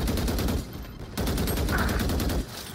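Rapid gunfire in a shooter video game, loud sustained bursts of automatic fire with a brief lull in the middle before the shooting resumes.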